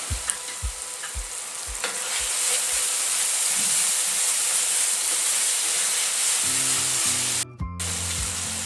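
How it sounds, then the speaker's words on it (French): Clams and sausage meat simmer together in a pan with a loud, constant frying sizzle and hiss, briefly cut off near the end before resuming alongside a low hum. "je vais les faire mijoter avec la viande pour qu'ils rendent leur eau aussi"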